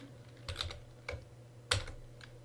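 Typing on a computer keyboard in short bursts of close, crisp key clicks separated by brief pauses, with a faint steady hum underneath.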